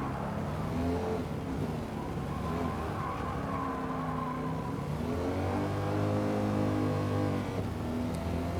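A tail-happy car driven in a Gran Turismo 7 license test, heard from the cockpit view, its engine droning steadily and climbing in pitch through repeated revs and shifts, loud and continuous without talk.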